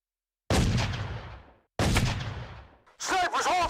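Sniper rifles fire in a video game battle: two heavy, booming shots with long rolling decays, followed by a short burst of shouted voice.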